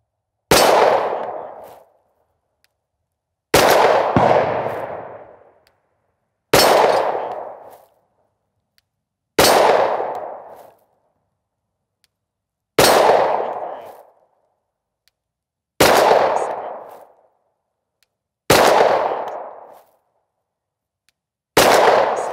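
A 9mm pistol fitted with a compensator fires 115 grain Winchester rounds as eight loud, sharp single shots spaced roughly three seconds apart. Each shot rings out briefly, with no voices between them.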